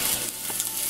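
Pieces of eel fry in a pan, giving a close, steady hiss and crackle with a few soft stirring scrapes over one second.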